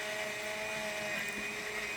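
A blender whirs steadily at high speed, grinding pears with a constant motor drone and slight shifts in pitch, close and loud throughout.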